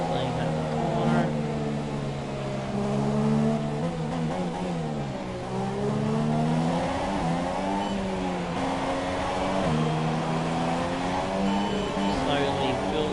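Formula 1 race car engine in F1 2017 at the Russian GP, a loud, high, continuous whine that dips and climbs as the throttle eases off and builds again, with someone talking over it.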